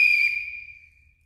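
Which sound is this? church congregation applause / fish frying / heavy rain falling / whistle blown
whistle blown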